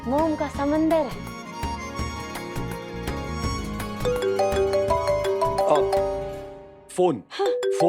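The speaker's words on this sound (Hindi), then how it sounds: "फोन फोन आ गया।" A phone rings indoors in a Hindi TV drama scene, a repeating melodic ringtone running for several seconds over background music before it cuts off abruptly.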